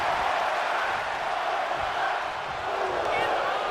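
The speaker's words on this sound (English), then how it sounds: "Just listen to the crowd." A crowd roars continuously in the WWE 2K25 wrestling video game, a dense, loud arena cheer with a commentator talking over it.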